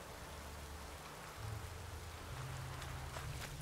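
Rain falls in The Witcher 3 as a faint, steady patter, with low tonal game ambience rising partway through and no talking.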